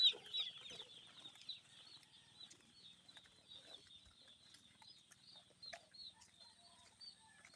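Chicks on a farm being moved into a newly built cage give off a steady chorus of high, close peeping, with soft clucks and a brief flutter of wings near the start.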